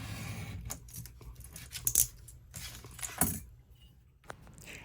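Scissors cutting the flap off a paper envelope for a journal pocket, heard as a few sharp, close snips and rustles of paper, quiet and irregular.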